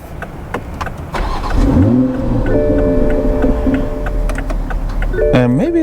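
A 2022 Toyota Supra with a 3.0L engine cranks and fires up, the revs rising sharply then settling into a loud steady idle, with a quick blip of throttle near the end and some clicks before ignition.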